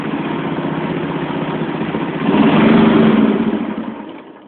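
A John Deere 325 engine cold starting with the choke on, a loud steady chugging idle that briefly rises in intensity, then winds down and dies.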